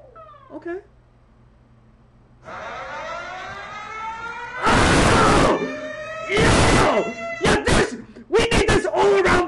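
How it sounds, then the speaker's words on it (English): Emergency alert alarms ring out in loud bursts: a wavering siren tone first, then sharp repeated blasts of harsh broadband noise, with excited voices reacting in between. "This should be the standard for all emergency alert sounds, man."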